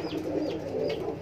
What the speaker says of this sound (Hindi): ये मेरे दिल के करीब और बहुत ही खास कबूतर है भाई